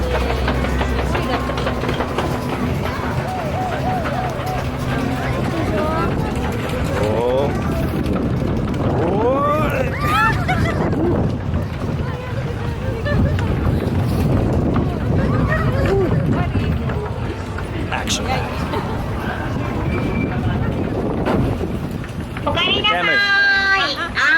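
Roller coaster ride at Fuji-Q Highland in Japan in winter, a continuous loud rumble of wheels on track with heavy wind buffeting the microphone and rattling bursts throughout, close and unbroken for the whole run.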